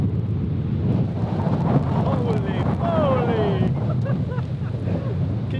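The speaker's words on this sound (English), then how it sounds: "It's very windy though, very," Strong wind roars and buffets the microphone continuously on high ground in Wales, a low heavy rumble with faint distant tones drifting through.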